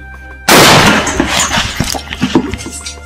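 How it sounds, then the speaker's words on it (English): A single loud gunshot rings out abruptly in a comedy short film, followed by rattling, clattering debris and reverberation that fades over the next few seconds. "Shoot him and find the money."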